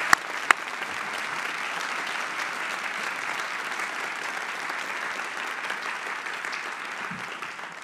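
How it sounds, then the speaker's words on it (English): Sustained audience applause at a General Douglas MacArthur leadership awards ceremony, an even, continuous rush of many clapping hands at moderate volume, with a couple of sharp knocks near the start. "So how about a big round of applause here for you?"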